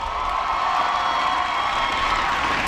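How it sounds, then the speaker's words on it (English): An audience at a White House celebration of 20 years of AmeriCorps breaks into steady, full applause with a few cheers mixed in, a dense wash of clapping that holds at an even level throughout. "Give Ivan a big round of applause for the introduction."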